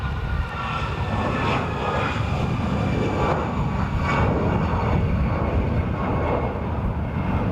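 Airbus A340 jet taking off at Dublin Airport, a loud continuous engine roar with broad rumbling noise and a rising and falling whine, heard from a spotting position without speech.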